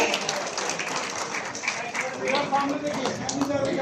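Dense, continuous applause from an audience at a ministry ceremony handing appointment letters to dental surgeons and medical officers, steady throughout with a voice speaking over it.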